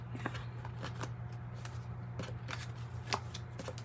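A tarot card deck being shuffled at a reading, with repeated crisp riffling flicks in an irregular rhythm over a steady low hum, close and moderately loud.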